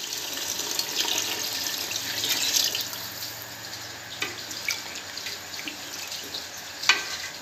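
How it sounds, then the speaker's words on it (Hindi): About four cups of water poured into a pot of lentils for mixed dal, a steady splashing stream running for several seconds with a few louder splashes and drips near the end, close and fairly loud. "अब हम इसमें तकरीबन 4 कप पानी शामिल कर देंगे।"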